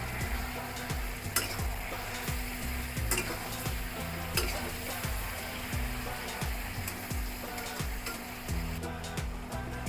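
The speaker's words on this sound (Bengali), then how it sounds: "এই সময়ই আগে থেকে ভেজে রাখা ডালের বড়াগুলো দিয়ে দিব। ভালো করে মিশিয়ে নিব।" A spoon repeatedly stirs mixed vegetables with fried lentil fritters (dal bora) in a frying pan, giving steady scraping strokes over a continuous close sizzle, with no talking.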